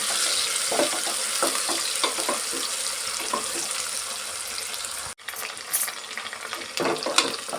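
Two chopped onions are frying in a pan for vegetable pulao, with a continuous crackling sizzle throughout and scraping stirring strokes mixed in. The sound drops out briefly, then the frying noise returns.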